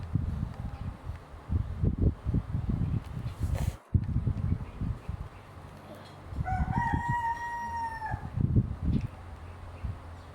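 Chickens cluck and scratch around nearby while a rooster lets out a clear crow midway, with rustling and shuffling noises in between.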